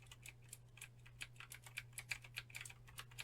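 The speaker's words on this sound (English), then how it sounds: "if you're after clicky mechanical keys, this is great" Rapid typing on a clicky NEWMEN GM840 75% mechanical keyboard, a steady stream of crisp close key clicks over a low constant hum, no talking.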